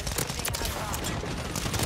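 Pistol fire in the shooter game Call of Duty: Modern Warfare III crackles as a dense, loud, continuous barrage of rapid shots blending into a harsh, steady wash of gunfire.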